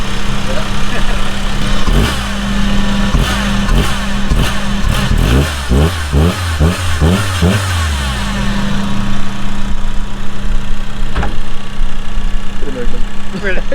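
A Suzuki Vitara engine, just fitted with a new valve cover gasket, is revved in short repeated bursts over a loud, rough idle heard up close, with some clatter between blips.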